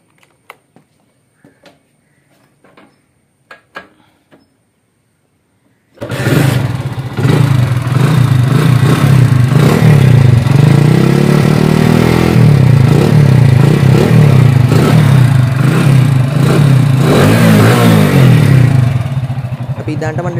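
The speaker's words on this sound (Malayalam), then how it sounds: "ഇതാണ്ട് വണ്ടിയുടെ ശബ്ദം എന്ന് പറയുന്നത്" After several seconds of near silence with a few faint clicks, a Bajaj CD Deluxe fitted with a new Euro 1-style silencer starts and runs loud and close, its steady, throaty exhaust drone continuing to the end.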